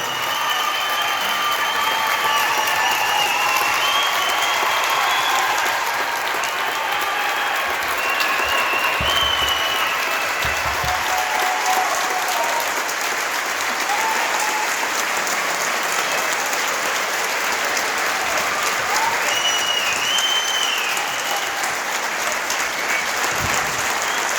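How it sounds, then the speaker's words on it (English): Sustained crowd applause and cheering in a gym at a basketball court dedication for a coach, loud and continuous for over twenty seconds, with scattered whistles and shouts rising above the clapping. "give Mr. St. John a warm round of applause"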